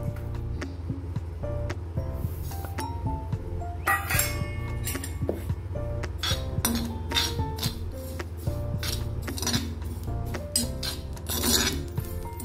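Spices and poppy seeds being dry-roasted on a tawa, with a steady scraping and rasping of a spatula against the pan and occasional light clinks.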